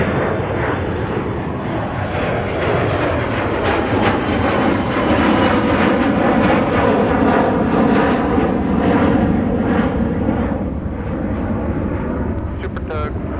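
An Embraer jet taxis at Minneapolis–St. Paul airport, its engines roaring loud and steady close by, with a broad rumble that swells slightly mid-way and holds throughout.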